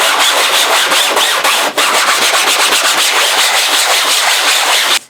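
Steady, continuous scraping and rubbing of a 3D print on self-adhesive sandpaper on a flat board, close and loud, with rhythmic back-and-forth strokes that cut off abruptly at the end.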